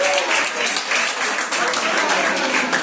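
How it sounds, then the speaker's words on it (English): An audience claps steadily through the whole stretch, a dense wash of many hands that stays loud and close from start to finish with no talk standing out above it. "Clap it up."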